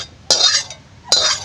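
An egg fry with drumstick is stirred in a pan: two sharp scraping strokes against the metal, each followed by a soft fading rustle, heard close and with no talking.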